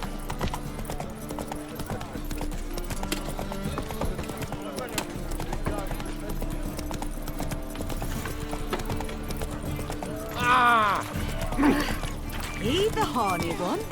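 The horse Roach trots in The Witcher 3. Its hooves clip-clop in a steady, close rhythm, with game voices talking over the hoofbeats.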